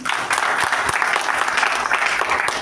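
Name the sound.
applause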